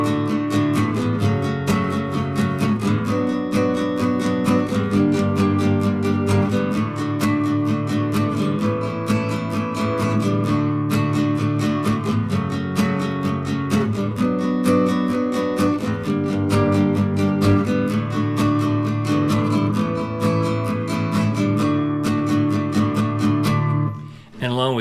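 A nylon-string guitar strums steady eighth notes through the verse of a song, with accented beats in a continuous, loud, even rhythm and no talk, ending abruptly.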